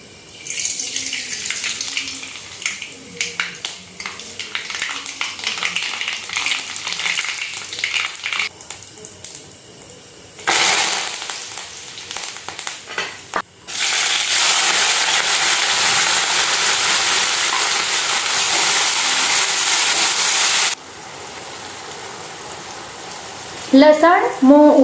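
Oil heating in a pan for a Kathiyawadi bajra rotla meal, with steady sizzling and frying hiss that swells into a loud continuous spell midway, broken by brief kitchen handling noises.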